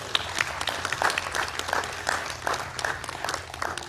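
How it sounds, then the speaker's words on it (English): Audience at a World Tai Chi and Qigong Day gathering in Bradenton, Florida applauds steadily for several seconds, a moderately loud wash of many hands clapping with faint murmurs and a few brighter claps standing out. "Let's give her a big round of applause."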